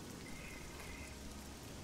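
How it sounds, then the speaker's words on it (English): Steady rain falls in the fantasy role-playing game The Elder Scrolls IV: Oblivion, a faint, even hiss with no other sounds. "Oof, still raining."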